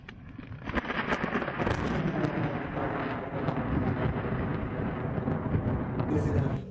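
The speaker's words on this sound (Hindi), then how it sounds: "और ये बारिश इतनी तेज़ हो गई है ना इस टाइम पे" Heavy rain pours down steadily in a worsening storm, a dense continuous hiss with scattered sharp drops and low rumbling thunder building throughout, with no voices.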